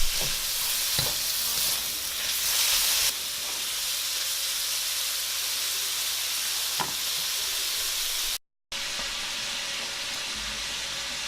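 Pork sizzles and fries in a hot pan with no added oil, a loud steady hiss with brief stirring clatter, heard alone without talk.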